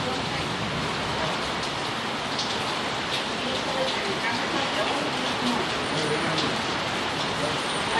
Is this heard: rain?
yes